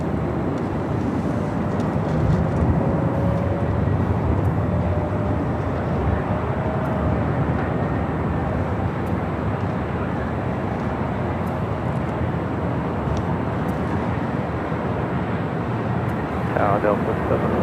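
A SkyWest jet taking off from runway 24 Left at Los Angeles International Airport: a steady, loud, broadband engine roar that holds throughout, heard from a distance with no break.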